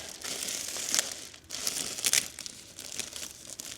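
Insulation film is pressed down onto double-sided adhesive tape by hand, giving close, crisp crinkling and light tearing rustles in quick bursts.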